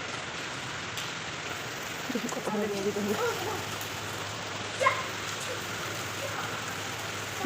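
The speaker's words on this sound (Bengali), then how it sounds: "এদিকেও বৃষ্টি পড়ছে দেখো" Morning rain falls steadily as a constant hiss, with a person speaking briefly over it partway through.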